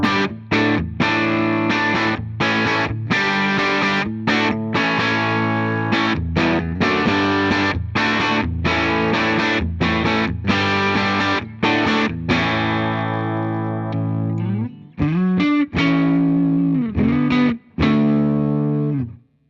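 Distorted electric guitar on the bridge pickup through a Fender Twin amp, chopped rhythmic chords with brief gaps, then sliding lead notes near the end, loud and upfront throughout.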